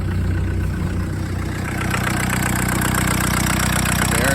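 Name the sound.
VW turbo diesel engine idling in Suzuki Samurai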